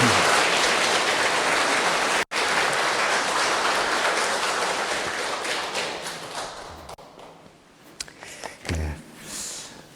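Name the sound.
church congregation applauding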